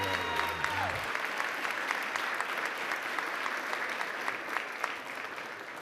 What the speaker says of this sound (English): I'm humbled by the applause.